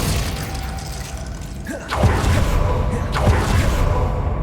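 Casting the Glacius freezing spell in the video game Hogwarts Legacy produces a couple of sharp whooshing impacts with crackling shatter-like thumps, loud over a continuous game background.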